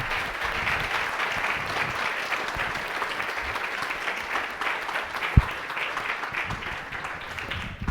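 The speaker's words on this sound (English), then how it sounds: "let's give him a nice round of applause" A conference audience at a Vue.js developer talk applauds the speaker, a steady, moderately loud round of clapping from many hands with one sharper knock partway through.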